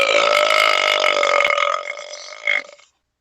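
A single loud, long burp rumbles continuously for nearly three seconds, roughening and tapering off with a final short push before stopping, with no talk over it.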